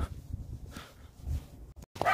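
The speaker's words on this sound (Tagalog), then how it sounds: "Nagagalit sa akin yung aso nila." A dog barks a few times at a distance, sharp and agitated, over a low rumbling background, on a cold morning after snowfall.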